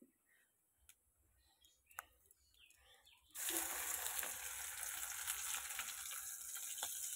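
Shrimp paste being lightly fried in oil with nigella seeds: after a few seconds of quiet clinks and taps, a loud, broad sizzle suddenly starts and stays steady, with occasional ticking stirs.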